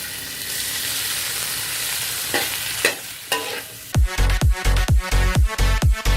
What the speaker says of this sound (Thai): ต่อไปก็เอาเบคอนใส่เข้าไปนะ